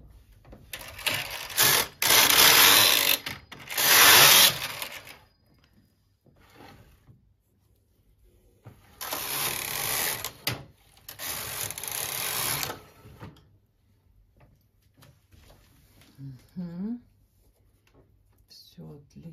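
Japanese-made Toyota KS 858 knitting machine with its carriage run across the needle bed, giving loud, close, rasping mechanical sweeps in several separate bursts with quiet pauses between them.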